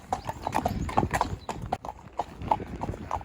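Steady clip-clop of a horse's hooves walking briskly during a ride, a close, even rhythm of hoofbeats continuing throughout.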